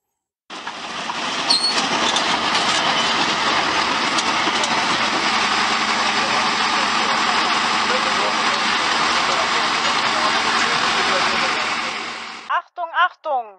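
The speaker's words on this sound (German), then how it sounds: "wollen wir euch kurz mal einspielen, wie es sich anhört, wenn solch ein Panzer fährt" A replica of the first tank, from 1916, driving along with a steady, loud rumbling engine drone that holds for about twelve seconds before cutting off into brief clattering sounds.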